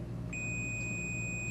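A continuity tester checking a white wire during an automation installation emits a steady, high electronic beep that starts abruptly and holds, heard clearly over a low background hum.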